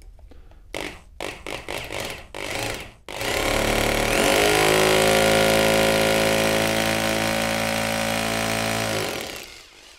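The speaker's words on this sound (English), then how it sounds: "So put the drill on the mark." A power drill bores into a wall for wall plugs, starting with a few short bursts and then running loud and steady for about five seconds, with a hammering rattle, before winding down.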